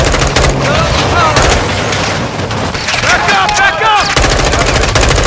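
Dense automatic gunfire from a Call of Duty: Modern Warfare II campaign firefight, loud and continuous bursts layered with shouting voices and battlefield chaos throughout.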